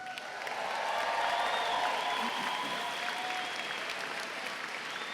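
A crowd of nearly 2,500 at a high school graduation ceremony applauds steadily, a dense, sustained wash of clapping that holds at an even level for several seconds and fills the hall.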